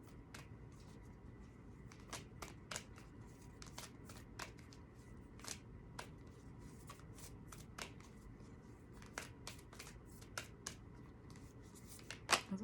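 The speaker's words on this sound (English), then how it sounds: "Let me get a Moonology card for my beautiful Leos for the month of October." Moonology oracle cards being shuffled by hand, a quiet, close series of rapid riffling snaps and soft card slaps repeating over and over with no talking.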